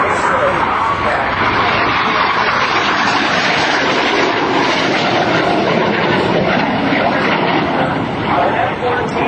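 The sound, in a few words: airplane flying low past at an airshow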